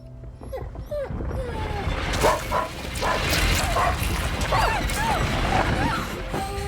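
A dog being attacked in A Plague Tale: Innocence, loud yelps and whines mixed with harsh crashing and tearing sounds, all close and dense throughout.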